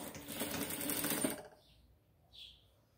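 A sewing machine stitching the hem of an elasticated baby crib sheet runs in a steady, dense burst for about a second and a half, then stops, leaving only faint handling noises afterward.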